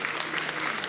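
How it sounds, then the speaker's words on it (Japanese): An audience applauds at a Miss World Japan Kyoto award ceremony, with steady, moderately loud clapping from a crowd throughout. "大きな拍手をお送りください"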